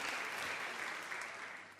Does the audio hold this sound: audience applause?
yes